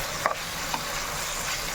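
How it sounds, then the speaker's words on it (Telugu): A spoon stirs a garlic, cumin and chili spice mix in a pan over a soft continuous sizzle, with a couple of faint scraping taps and no talking. "ఒకసారి అలా కలిసేలాగా కలుపుకోవాలి."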